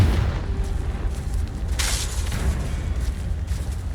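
Repeated Confringo fire-blast spells explode in Hogwarts Legacy, making a dense, continuous booming rumble with a sharp bright burst near the middle, loud and sustained throughout.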